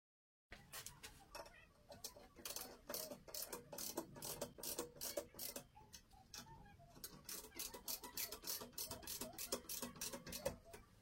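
Torque wrench ratcheting as it tightens the handlebar clamp bolts on a bicycle stem: a steady run of close, crisp clicks in short rhythmic bursts, repeating for several seconds.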